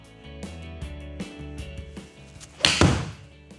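A single sharp, crisp impact of a golf iron striking the ball into turf sounds loudly near the end, cutting through low background hum and clatter.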